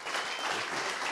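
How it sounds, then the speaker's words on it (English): A brief burst of audience applause at a talk event in Austin, a dense patter of clapping at moderate volume. "How about a round of applause for Clayton?"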